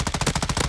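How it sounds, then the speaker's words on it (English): Rapid automatic gunfire in Call of Duty Warzone 2 rattles in a tight burst of about a dozen evenly spaced shots, loud and close, with no voices. "they're shooting at someone else"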